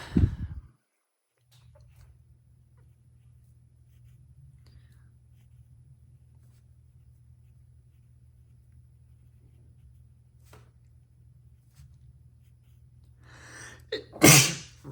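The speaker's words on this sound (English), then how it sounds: "Don't usually sneeze here." A single loud, close sneeze bursts out near the end, after a brief sharp intake of breath, over a steady low hum.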